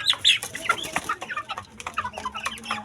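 Four-month-old native chickens clucking, several close, irregular short clucks and chirpy calls overlapping in quick succession, with a low hum underneath and no voices.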